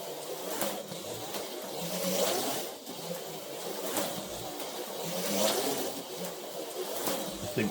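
An Autoworld Datsun 510 X-Traction HO slot car on stock tires runs around a track with a continuous buzzing whine that swells and fades in repeated passes, moderately close and with no voices.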